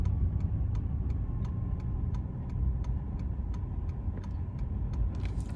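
Steady road traffic rumble from cars around a merging lane, a continuous low engine and tire drone with faint regular ticking, like a turn signal, running throughout.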